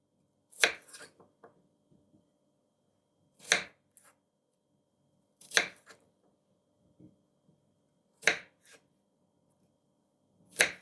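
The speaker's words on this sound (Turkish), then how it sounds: "Gördüğünüz gibi soğanları 4'e bölelim." A knife chops purple onions into quarters on a cutting board, five sharp separate thunks spaced a couple of seconds apart in a quiet room.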